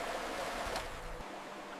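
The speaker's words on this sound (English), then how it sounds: "A sluice board lifts in water. The flow takes light silt away, and it never returns." Water flows steadily over a sluice board used for washing gold-bearing silt in ancient Egypt, a continuous soft rushing wash with a brief louder surge partway through, then settling back into a quieter even flow.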